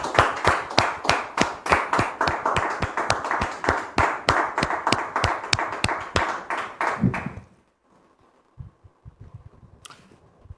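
A French studio audience claps in a steady, rhythmic unison beat for a couple arriving on a talk show, loud and close, then the clapping stops abruptly, leaving near silence with a few faint knocks.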